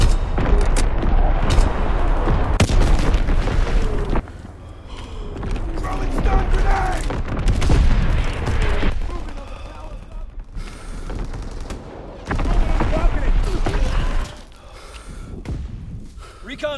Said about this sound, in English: Firing division artillery.